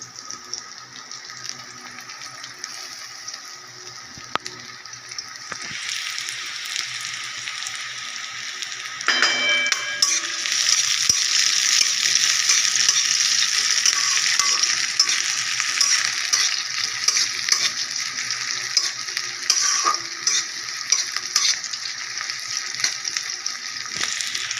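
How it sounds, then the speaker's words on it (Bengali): Onions and green chillies fry in hot oil with a steady, bright sizzle that swells louder partway through and keeps crackling continuously, close up and without talk. "তেলটা গরম হয়ে গেলে পেঁয়াজ দেবো আর কাঁচা লঙ্কা।"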